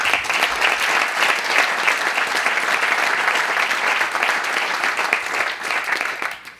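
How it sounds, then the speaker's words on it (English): Steady, dense applause from a large dinner audience, loud and sustained throughout with no voices over it. "I ask that they accept our applause in absence"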